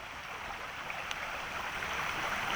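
At night, creek water flows in a steady, even rush from below an overlook, faint and continuous with no other sounds standing out.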